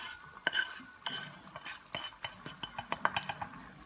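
Spaghetti with anchovies, capers and olives is stirred and tossed in a pan with seasoned breadcrumbs, giving quiet close scraping and repeated light clinks of a utensil against the pan.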